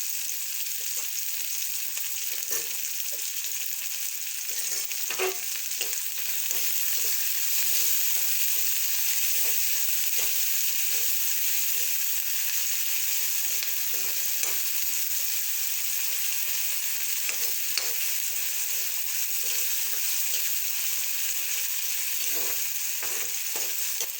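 Finely chopped garlic sizzles steadily in hot oil for a prawn chutney, a continuous bright hiss with occasional soft pops and light stirring clicks, close and even throughout with no talking.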